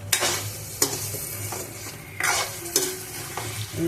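Spice masala being stir-fried in oil in a kadai, repeated close spatula scrapes and clinks over a bubbling sizzle, uneven bursts of stirring with short pauses, no talking.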